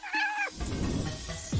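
A cat meows once as a sound effect, a drawn-out, fairly loud cry followed by a soft rustling tail of noise.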